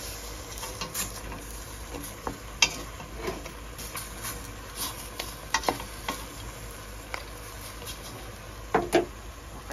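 Beef ribs caldereta stirred in a pot, with steady sizzling and a scatter of sharp scraping, clinking strokes at irregular intervals, close and fairly quiet.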